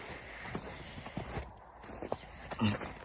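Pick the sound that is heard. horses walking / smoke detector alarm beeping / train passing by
horses walking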